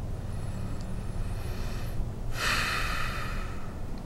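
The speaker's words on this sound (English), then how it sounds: "So I take the breath in." One slow breath drawn in during meditation, soft and close, rises into a clear rushing inhale after a quiet pause.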